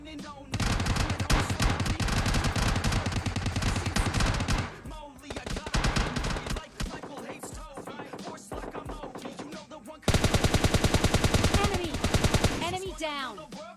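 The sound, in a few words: gunfire in the video game PUBG Mobile Lite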